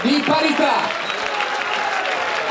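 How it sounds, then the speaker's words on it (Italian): Audience applause fills the space after a drawn boxing match, a steady dense patter of clapping from a crowd, loud and continuous for the whole stretch, with a few voices mixed in near the start. "Ancora un grande applauso a due protagonisti che non si sono risparmiati"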